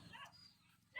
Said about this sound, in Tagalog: Marinig mo tahol ng aso